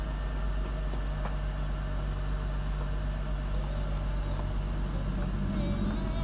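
A Mercedes C300 W204 engine idles after a steering column lock fault, holding a steady low hum with a constant drone and no change in revs.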